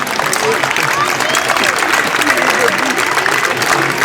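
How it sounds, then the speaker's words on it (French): An audience applauds the TCBB mascot Bobby at a prize-giving ceremony, a dense steady clapping throughout, with someone talking over it. "et puis Bobby, oula, on peut l'applaudir, Bobby."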